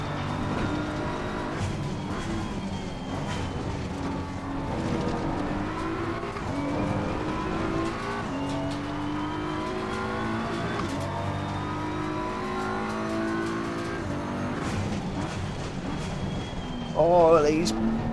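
Race car in Assetto Corsa Competizione at Oulton Park, engine revving up and down through gear shifts with brief tire squeal near the end, someone talking over it throughout.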